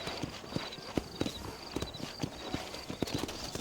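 Horse hooves clip-clop at a slow, even walk on a dusty town street in New Austin in the video game Red Dead Redemption. The hoofbeats are steady and moderately close under a soft ambient bed.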